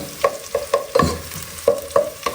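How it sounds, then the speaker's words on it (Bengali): Rice fries and sizzles in hot ghee with cardamom, bay leaves and garam masala while a spoon stirs it in rhythmic scrapes, about eight distinct strokes over a steady sizzle, close and loud, with no talking. "চালগুলোকে খুব ভালোভাবে ভেজে নিতে হবে নেড়ে চেড়ে নেড়ে চেড়ে নেড়ে চেড়ে ভেজে নিতে হবে"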